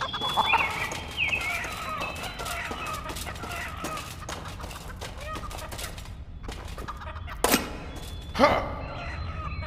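Chickens cluck and squawk in the video game Blade & Sorcery, a busy close flock of fowl calls running throughout with a couple of sharper, louder bursts near the end, mixed with game noise.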